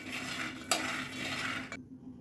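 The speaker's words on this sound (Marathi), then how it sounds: "हलवत राहा सारखं म्हणजे शेंगदाणे खाली चिटकणार नाही" Peanuts dry-roasting in a pan, stirred continuously so they don't stick, giving a soft, close rattle and scrape with a faint sizzle, plus one sharper clink of the spoon against the pan.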